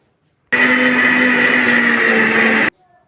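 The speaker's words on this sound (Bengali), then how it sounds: "তার জন্য আমি এই মিক্সার গ্রাইন্ডারে জারে প্রথমে এই যে অল্প চাল আর মুগ ডাল ভেজানো ছিল সেটা বেটে নিয়েছি।" A mixer grinder jar whirs loudly at a constant pitch for about two seconds, grinding soaked rice and mung dal into batter, then cuts off abruptly into silence.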